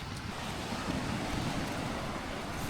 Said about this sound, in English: we're at the beach, which looks fucking lovely